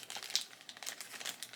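A plastic bag crinkles and rustles close by in quick, continuous bursts as two doll heads are placed inside it.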